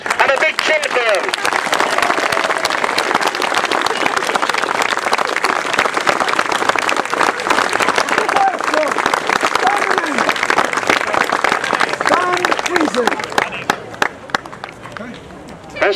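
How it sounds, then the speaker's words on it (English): A large outdoor crowd at a wartime air raid re-enactment at Rufford Abbey claps and cheers loudly and continuously, with voices and shouts mixed into the applause. "A huge round of applause, please, and a big cheer for them"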